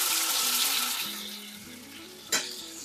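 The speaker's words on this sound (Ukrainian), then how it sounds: "Перегортаю, накриваю кришкою та даю просмажитись гарненько ще півтори-дві хвилинки." Potato pancakes (deruny) sizzle steadily in a frying pan, a close, continuous crackling hiss with one sharp scrape partway through.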